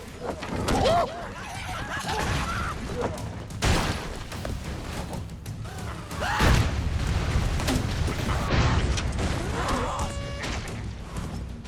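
Bomb explosions go off in Broforce, with several deep booms and crashing bursts scattered across a busy stretch of gunfire and chaos, while a voice talks over much of the action.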